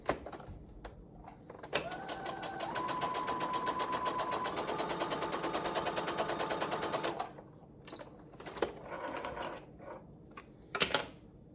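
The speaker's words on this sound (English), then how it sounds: "And then I'll do 1 more row of the gathering stitches just to make it a little more secure." A sewing machine runs a row of gathering stitches through a sleeve cap with a steady mechanical whirring hum for about five seconds. It is close, and quieter handling noises come before and after.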